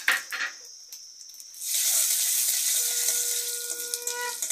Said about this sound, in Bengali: এবার দিয়ে দিচ্ছি গোটা জিরে আর 5 ফোড়ন।